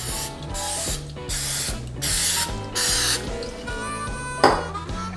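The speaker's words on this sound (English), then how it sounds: "Starting out by greasing your pan with a little bit of cooking spray." Cooking spray hisses onto a muffin pan for wonton cup appetizers in a kitchen, several close, loud bursts of aerosol spray, with faint clinks and a soft knock near the end.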